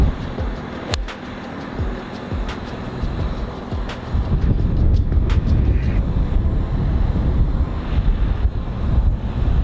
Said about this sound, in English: especially with that wind being here and the wind pushing right to left